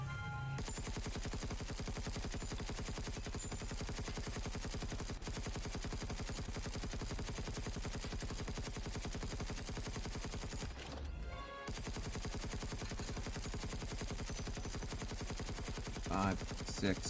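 A weapon in the Space Engineers 2 video game fires a rapid, sustained automatic burst for many seconds, loud and relentless, with a brief pause near the middle before firing resumes, then a few mechanical clicks at the end.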